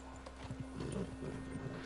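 Horse hooves clip-clop at a steady walking pace in Red Dead Redemption 2, with a faint neigh mixed in, all fairly quiet against a constant low game hum.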